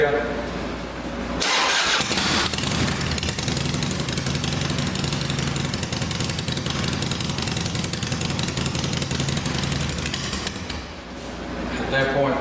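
Harley-Davidson Dyna Twin Cam motorcycle engine cranks and fires, then runs at a steady loud idle with a rhythmic pulsing rumble for about nine seconds before shutting off, heard up close.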